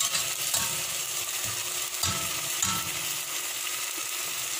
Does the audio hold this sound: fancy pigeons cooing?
no